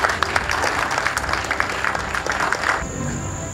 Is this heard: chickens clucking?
no